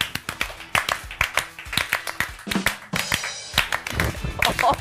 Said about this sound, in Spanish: Hagámosle un aplauso matemático.